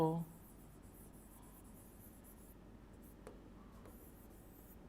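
A pen writes a definition on paper with soft, continuous scratching strokes, faint and close, after a brief burst of voice at the start.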